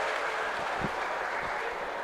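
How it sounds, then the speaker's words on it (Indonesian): Church congregation at a Christmas Day mass clapping together in a steady, dense burst of applause that fills the room, fairly loud and continuous with no talk over it. "Tepuk tangan."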